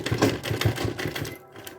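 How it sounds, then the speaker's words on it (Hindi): A sewing machine stitches back and forth over the corner of a handmade purse, a brief loud run of fast rhythmic mechanical thumps that stops abruptly. "सिर्फ कोने पे दो चार बार सिलाई करके पक्का कर दूंगी"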